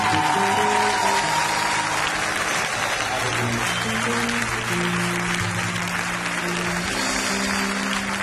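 A church congregation applauds together, the clapping broad and sustained under sustained organ or keyboard chords, with faint voices mixed into the crowd.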